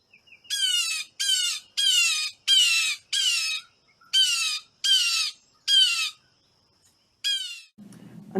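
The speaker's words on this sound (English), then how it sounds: "Another year-round Ohio bird is the blue jay." A blue jay in Ohio winter gives a loud, close series of about ten harsh squawking calls in a steady rhythm, each roughly half a second long, followed by a brief rustle at the end.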